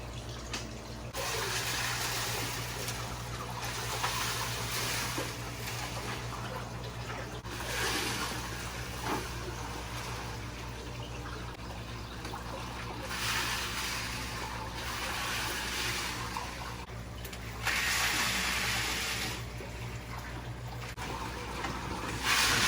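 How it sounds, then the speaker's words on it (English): Water siphoned out of a 125-gallon freshwater aquarium during a water change, a steady wet rushing and trickling that runs continuously, with louder splashing surges near the end. "I'm siphoning out with some water, preparing for this good water change that this tank so desperately needs."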